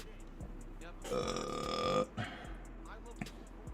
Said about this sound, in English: This was a burp, and then it had a snort afterwards.